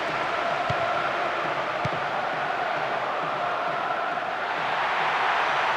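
Crowd noise in the Winning Eleven football video game, a steady broad roar of a stadium audience that stays loud and unbroken, with a couple of faint thumps.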